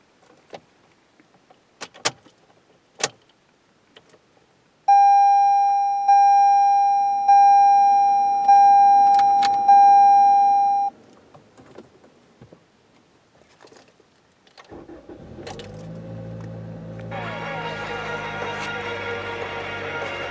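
A 2019 Toyota Camry LE is started with a key: sparse clicks, then a steady repeating chime for several seconds, and finally a whirring rise as the engine comes to life and settles into a steady hum.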